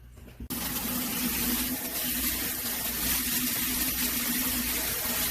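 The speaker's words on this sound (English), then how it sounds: "I am going to wash these eggs" Tap water runs steadily into a sink while duck eggs are washed for making eggshell calcium powder, a continuous close splashing gush that starts after a brief pause and carries on alone with no talk.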